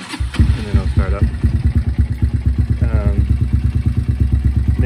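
A Honda Tiger motorcycle with an aftermarket exhaust pipe starts up and settles into a steady, lumpy idle close by. It gives a quick burst at first, then regular low pulsing throbs.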